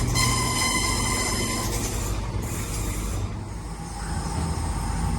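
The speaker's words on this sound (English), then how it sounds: "there goes the 1135 West Midlands Railway service to Four Oaks via Birmingham New Street from Redditch." A West Midlands Railway passenger train pulling out of a Birmingham station, a sustained close rumble with metallic wheel and mechanism tones and a faint high squeal, fairly loud and without voices.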